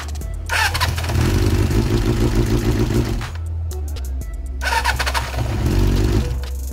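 A Kawasaki GPZ400 motorcycle engine cranks and catches, runs roughly for a few seconds, cuts out, then starts again with a second burst of close, loud idling and revving.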